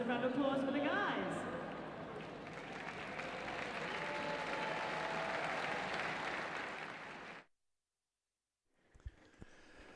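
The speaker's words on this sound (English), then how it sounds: "A massive round of applause for the guys." A crowd at a track cycling event, the London 3 Day grand final, applauds and cheers loudly for about seven seconds under a speaking voice, then cuts abruptly to near silence before faint arena noise returns.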